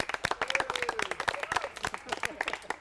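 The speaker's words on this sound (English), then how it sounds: "round of applause please" A small group of people clapping together in a quick, uneven round of applause at a high-ropes training course, close and fairly soft, with a voice speaking over it.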